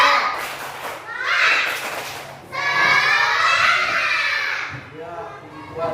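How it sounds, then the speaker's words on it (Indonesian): Schoolchildren in a classroom do a lively clapping chant together, with bursts of shouted voices and claps rising and falling over several seconds, plus a few dull thumps. "Tepuk semangat."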